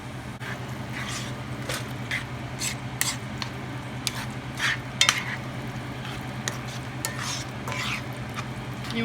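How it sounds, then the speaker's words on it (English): Tomato soup stirred into cooking hamburger meat in a pan for sloppy joes at a camp activity, with a soft continuous sizzle under repeated scraping and squishy stirring strokes and occasional utensil clinks, no talking. "You want to mix it around good. Make sure you get all the hamburger with the tomato soup."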